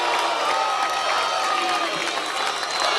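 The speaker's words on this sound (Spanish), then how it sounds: "aplauden por el protocolo antipiquete" An audience applauds and cheers in a hall after mention of an anti-picket protocol, a dense, steady wash of clapping and crowd noise running unbroken and fairly loud throughout.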